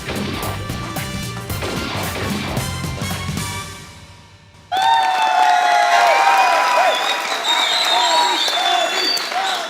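Studio audience applause and cheering on a Pakistani comedy talk show, bursting in loudly after a music sting fades and continuing as a dense, close wash of clapping.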